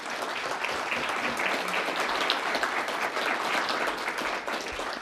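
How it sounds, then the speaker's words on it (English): A sustained round of applause from an audience at a panel discussion on hydraulic fracturing, steady dense clapping that holds at an even level for the full stretch without talk. "if we could give them another round of applause."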